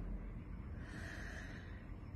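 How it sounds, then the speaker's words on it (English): One deep breath is slowly let out during a guided relaxation exercise, a soft, breathy rush close to the microphone lasting about two seconds, with no talking. "So take a deep breath,"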